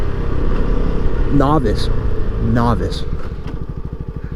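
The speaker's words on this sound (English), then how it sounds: "it's fun being on a motorcycle" A little Kawasaki 300 motorcycle engine drones steadily while riding, a mid-pitched hum with a faster pulsing throb toward the end, under a nearby voice speaking briefly.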